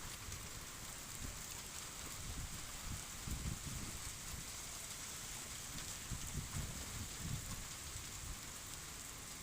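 Sudden heavy rain pours down at an outdoor mall spot in Vebu City, a steady dense hiss of drops drumming on surfaces with low rumbling patter underneath, continuous and fairly close throughout.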